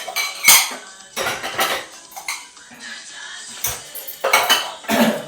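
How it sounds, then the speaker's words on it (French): Dishes and cutlery clattering and clinking as they are washed in a home kitchen, with irregular bursts of knocks and scrapes close by and no talking. "je m'organise aussi à pouvoir nettoyer au fur et à mesure ma vaisselle"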